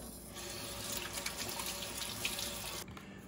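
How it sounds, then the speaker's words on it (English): Tap water runs steadily into a sink during hand washing, a moderate hiss and splash that cuts off near the end, with no voices. "once I wash my hands"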